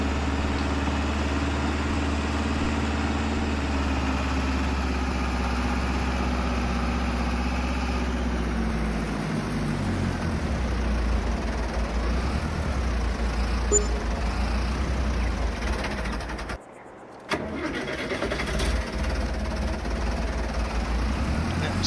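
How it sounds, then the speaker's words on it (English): Tractor engine in Farming Simulator 22 stalling after the clutch is released too early, a steady loud rumble that sinks and dies away, then a short dropout before the engine comes back, with no talk over it. "Stalled the engine there a little bit. Popped off the clutch a little too early"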